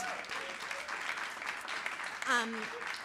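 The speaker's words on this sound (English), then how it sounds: "I am going to ask for a round of applause because that's a huge achievement" An audience gives a round of applause at a storytelling show, with steady dense clapping throughout and voices and cheers rising within it, swelling briefly near the end.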